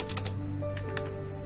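A computer keyboard is used to type a network switch configuration command: a quick run of crisp, close keystroke clicks, then a short pause and two more taps over a faint steady hum.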